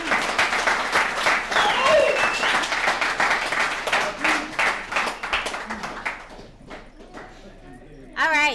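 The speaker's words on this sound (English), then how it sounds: "let's give David another round of applause" An alumni meeting audience at a recovery services gathering gives a speaker a round of applause, dense clapping that rises and then thins out over several seconds, with voices mixed in and a brief burst at the end.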